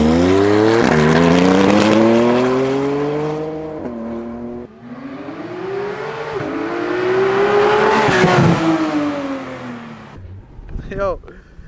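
A 2018 Porsche 991.2 GT3 engine revving hard through several gear changes, rising whines climbing and dropping, loud and close, with a brief tire squeal and a voice speaking at the end.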